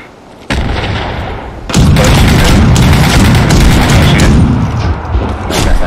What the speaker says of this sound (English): Throw a grenade on him. Got a grenade on him.